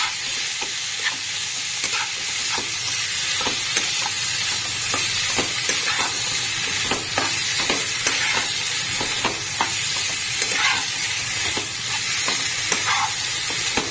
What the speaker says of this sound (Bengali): এবার আমি এর মধ্যে দিয়ে দেব সমস্ত ভেজে রাখা আলু আর পটলগুলোকে দিয়ে ভালো করে নেব মিক্স